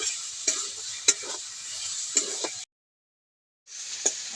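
Cooked taro leaves with a little sugar are stirred in a frying pan. A soft sizzle runs under a few sharp spatula scrapes, and the sound cuts out briefly before the stirring resumes.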